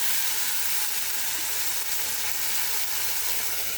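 Chopped tomatoes cooking down in a pan with oil for gongura chutney give off a steady, even sizzle and frying hiss that holds at a constant level for the whole stretch, with no talking.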